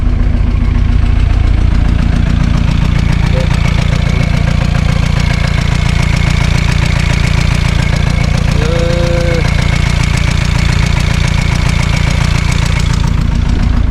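A Volkswagen T4 van's turbocharged engine idles loudly and steadily up close, a deep continuous rumble with a slight knocking pulse throughout and a brief squeak midway.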